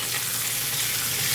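Chicken pieces fry in a pan with a dense, continuous hiss and sizzle of hot oil, loud and close, steady for the whole moment with no talk.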